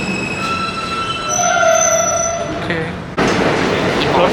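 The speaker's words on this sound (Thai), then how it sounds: "รถไฟมาแล้ว" A New York City subway train arrives at a station, a loud steady rumble with high wheel squeals and screeching tones, ending in a sudden burst of louder rushing noise as it pulls in close by.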